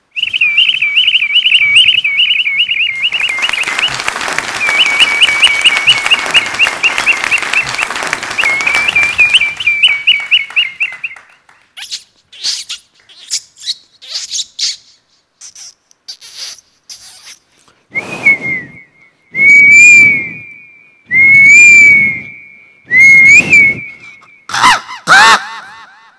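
A mimicry artist imitates a series of bird calls with his voice on stage: long trilling whistles over steady crowd applause, then loud separate chirps and warbling calls in short bursts, close and clear.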